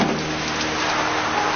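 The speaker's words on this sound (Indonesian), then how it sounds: "비 오잖아." Steady rain falls on a rainy city day, a dense, even hiss that holds at constant loudness throughout with no voices.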